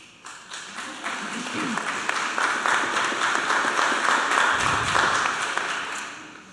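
A round of applause at a public meeting swells from scattered claps into steady clapping from the room, with talking heard over it.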